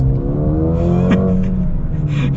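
A Mercedes-AMG A35 in Sports Plus mode accelerates hard, its engine note climbing loud and close with rising harmonics, briefly broken by a quick gear shift.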